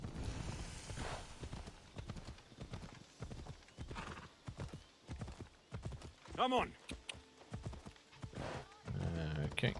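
Horse hooves clip-clopping at a brisk pace in Assassin's Creed Odyssey, with a loud whinny partway through, while someone talks over the hoofbeats.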